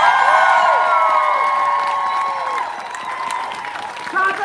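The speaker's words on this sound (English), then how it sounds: "Clap it up for yourself." A crowd at a Roe v. Wade rally claps and cheers loudly, a dense wash of applause with a few whoops that fades slightly over a few seconds.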